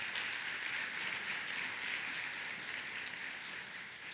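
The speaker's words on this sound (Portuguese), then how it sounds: "Dê um aplauso forte ao Senhor esta noite." A congregation at an evening family celebration church service gives a sustained round of applause, a dense, even wash of many hands clapping at moderate level, with a single sharp click near the end.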